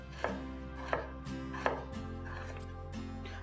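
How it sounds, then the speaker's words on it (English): A knife cuts potato halves into batons on a board, three distinct chopping thuds at a steady rhythm followed by quieter cutting, close and clear with no talk. "What I'm going to do is cut this into a half and then cut into batons."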